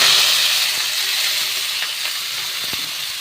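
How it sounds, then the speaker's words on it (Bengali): Kalai greens frying in hot oil tempered with nigella seeds and dried red chillies, a continuous close hiss and sizzle that eases slightly over time, with a few faint stirring clicks. "এবার আমি শাকটাকে দিয়ে দেব।"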